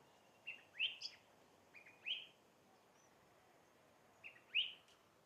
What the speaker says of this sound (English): You hear that bird? Where is it? Oh, it's up there. I think it's a wren, a little wren.